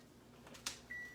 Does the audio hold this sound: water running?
no